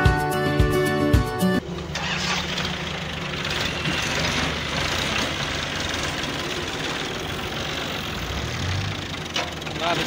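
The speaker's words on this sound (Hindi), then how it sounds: "किस तरह ये मिट्टी किस तरह उठा के ट्रैक्टर आगे फेंक रहे हैं" A tractor lifting and dumping soil at a house construction site, its engine running steadily and loud with a rough, knocking low rumble, after a brief burst of music at the start.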